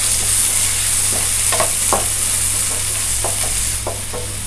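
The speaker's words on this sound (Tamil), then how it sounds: "வெங்காயம் நல்லா வதங்கட்டுங்க." Two chopped onions frying in a pan for a cauliflower and peas gravy, with a loud continuous sizzle and a few brief spoon scrapes as they are stirred, heard close up.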